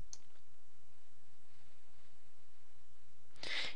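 A single sharp mouse click lands near the end of a near-silent stretch, preceded by a faint tick at the very start.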